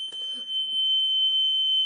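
Loud, steady high-pitched whistle-like alarm tone from a squishy circuit toy, holding continuously for about two seconds, with brief child sounds at the start.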